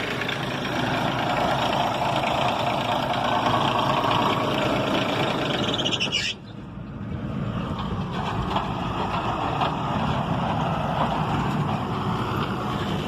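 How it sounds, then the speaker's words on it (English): A tractor engine idles during a corn harvest, giving a loud, continuous low rumble with a brief dip midway before the steady drone resumes. "Alright, time to go shut down the tractor."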